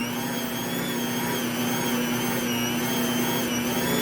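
Fresh-milled flour pretzel dough being mixed by an electric mixer, which gives a loud, steady motor whine that runs unbroken and close, with no talking.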